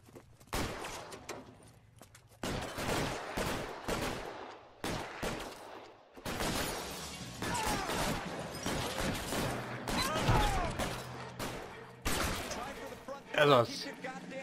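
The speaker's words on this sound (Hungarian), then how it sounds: "igazi gangster lövöldözés!" Gangster shootout in the video game L.A. Noire, set in a city by day: dense, rapid volleys of gunfire crackle almost nonstop, with short pauses between bursts and a louder cluster near the end, under some in-game voices.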